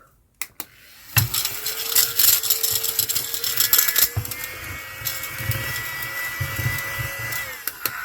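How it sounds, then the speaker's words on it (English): A household vacuum cleaner starts up after a few knocks and runs steadily with a rising whine while tidying glue strands and tinsel off a craft table, close and fairly loud, with no talk. "let's hoover up"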